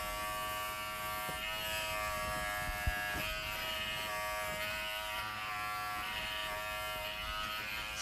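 A Wahl Figura lithium-ion clipper hums steadily and close while grooming a standard poodle, a continuous electric buzz with faint tonal whine and no talking.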